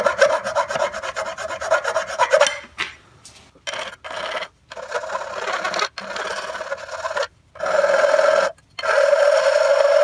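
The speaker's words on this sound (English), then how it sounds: "Okay, I'm going to file that." Metal part from a 1962 Johnson 10 hp outboard motor being filed by hand: close, steady rasping strokes in runs, broken by several short pauses, with no talking.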